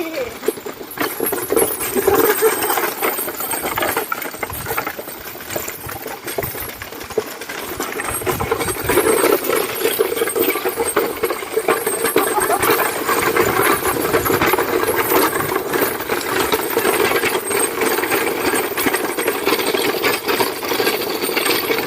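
A vehicle drives along at Mon Jam, its engine droning steadily under broad road and wind noise that holds close and fairly loud, with faint voices now and then.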